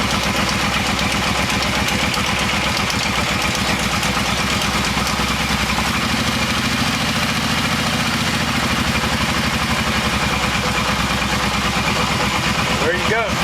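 A reassembled Kawasaki Brute Force engine idles just after starting with a steady, loud, close mechanical drone and even rhythmic pulsing, with a brief shift in tone partway through.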